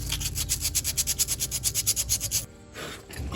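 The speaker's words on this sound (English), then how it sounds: "So I just got some 180 here. I'm just gonna kind of sand down the area." Hand sanding an area on an SN95 Ford Mustang GT with 180-grit sandpaper, a close, loud rhythmic rasp of quick back-and-forth strokes for over two seconds, then a short pause and one softer stroke.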